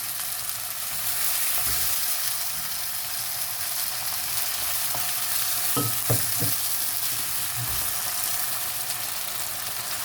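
Sweet honey mushrooms stir-fry with oyster sauce in a hot pan, a continuous crackling sizzle with several sharp knocks and scrapes of a spatula against the pan midway, close and without speech.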